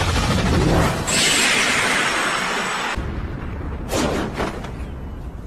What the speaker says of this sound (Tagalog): May pagsabog.